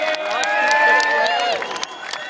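Crowd at the Silverstone 2011 British MotoGP riders forum cheers and applauds for rider Hiro Aoyama, a loud, dense wash of clapping and whoops with music or tonal sound threaded through, tapering off near the end.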